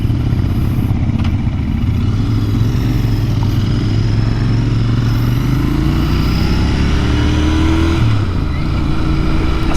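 A Royal Enfield Interceptor 650 twin-cylinder, air-cooled engine runs with a steady close rumble, rising in pitch as it revs and pulls away, with no talking.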